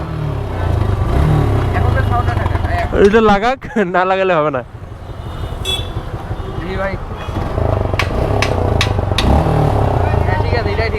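A motorcycle with a modified stock exhaust idles and revs in a steady low throbbing rumble, while people talk over it nearby at close range.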